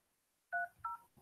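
Telephone keypad tones sound while a call is being placed: two short, clear dialing beeps close together, each followed by faint handling noise, with no talking.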